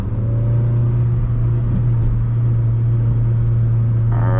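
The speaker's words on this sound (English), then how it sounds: "let's go ahead around, make a U-turn, and see what the red EVO is able to do." Red Mitsubishi Lancer Evolution VIII engine drones steadily at close range with a low, constant rumble, and a brief rise in intensity comes near the end as it begins to accelerate.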